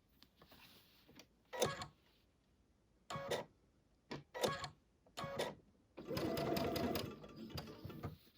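A sewing machine stitches a butterfly quilt in short, close bursts of rapid mechanical whirring. Quiet pauses separate the bursts, and the final run is longer and steadier.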